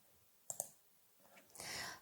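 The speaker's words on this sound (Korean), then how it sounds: "설문 참여하기 버튼을 누릅니다" Two quick, faint mouse clicks close together, followed by a soft rustling swell, heard alone in a quiet room.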